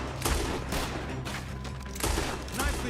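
Dense gunfire from the video game Red Dead Redemption 2: a rapid volley of overlapping shots with sharper cracks near the start and end, loud and continuous throughout.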